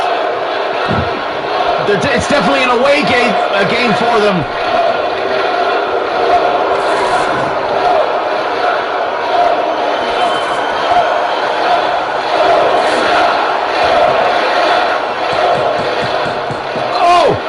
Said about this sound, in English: some of those fans out there cheering, telling the NWA to go away